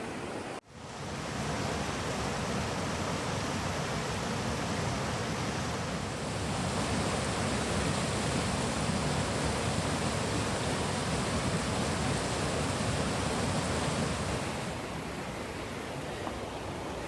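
Cold Springs Creek, an ice-cold stream of glacier melt on the east side of Mount Hood, Oregon, rushes steadily and loudly nearby. The broadband roar holds without a break, with no voices heard.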